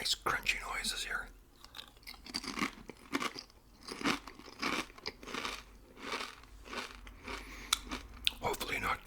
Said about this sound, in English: I'm going to have a lot of nice crunchy noises here.